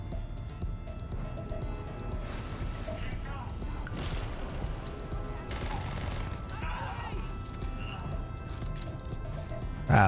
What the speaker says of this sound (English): Ah, those are grenades.